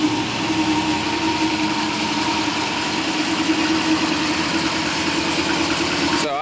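Turbocharged Honda Accord engine idling steadily nearby, a constant low droning hum with a faint whine, running on without talk until a sharp change at the very end.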